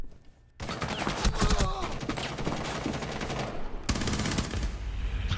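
Gunfire through a wall in Rainbow Six Siege, rapid automatic bursts that start abruptly after a short lull, loud and dense with a brief break before firing resumes, with voices partly audible underneath.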